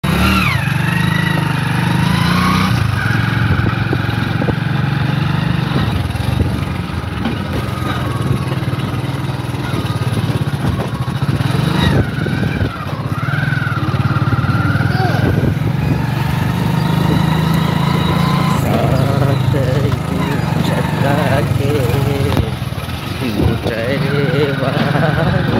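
A tractor engine rumbles steadily in a green village roadside setting, a continuous low drone that swells and fades slightly as vehicles pass, with someone talking over it.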